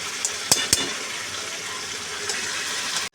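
Spice paste sizzles and fries in hot oil in a wok while ash gourd is being cooked, a steady close crackle with a few sharp stirring clinks and scrapes near the start.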